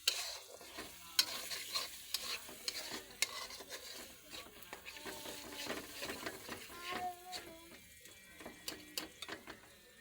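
Eggs frying with onion and chili in a pan, stirred with quick irregular scrapes and clicks over a soft, quiet sizzle.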